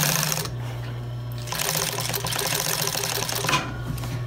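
A Juki 241 industrial sewing machine used for upholstery runs steady long stitches, a fast rhythmic mechanical chatter with a low motor hum, briefly pausing near the start and stopping near the end.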